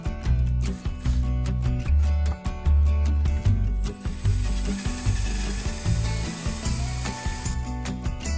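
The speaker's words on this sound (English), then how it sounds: "And now I'm just going to drill out this hole in the center." A drill grinds a hole through the center of a wood piece up close, the bit's harsh whirring broken by rapid clicking and brief pauses, then biting in again.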